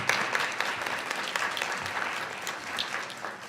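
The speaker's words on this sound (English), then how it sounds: "If we can give them a round of applause," Steady audience applause for students at a school board meeting, a dense wash of clapping that stays even and fairly near for a few seconds, with little talk over it.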